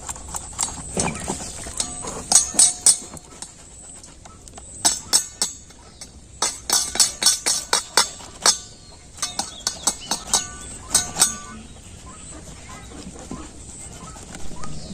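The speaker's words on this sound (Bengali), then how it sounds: "আমি এইরকম একটা কুরুনির সাহায্যে করে নিচ্ছি" Ripe mango flesh is grated on a kuruni scraper, giving a run of sharp, bright scraping and clicking strokes in quick irregular bursts, close and fairly loud, with brief pauses between clusters.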